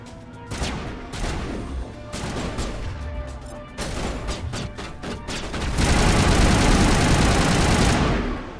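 Enemy gunfire strikes the player's shield in the Mass Effect video game, a burst of rapid irregular shots and impacts that swells into dense, loud continuous fire near the end.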